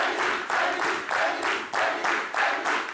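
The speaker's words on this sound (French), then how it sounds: "Merci de bien vouloir nous applaudir." A television studio audience with a fan club present claps in loud, rhythmic waves, the bursts of applause pulsing steadily at about two per second.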